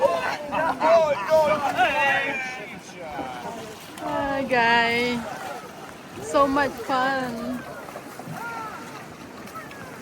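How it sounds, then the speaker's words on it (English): Rushing whitewater river rapids churn beneath a boat in a constant noisy wash, mostly under excited voices that talk and exclaim close by. "Whitewater River Rapids"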